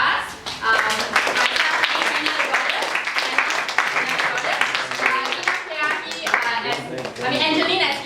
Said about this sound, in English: I would like to ask everyone to join me in giving a round of applause to our cast.